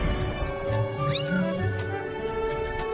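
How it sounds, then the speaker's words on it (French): A cat meows in the Zelda Skyward Sword HD video game, a short rising cry heard once over steady game background music. "C'est un chat."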